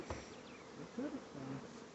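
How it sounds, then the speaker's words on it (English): Honeybees buzz around a hive box, several insects droning and passing close by with shifting whines over faint background, no talking. "There's a bunch of bees here"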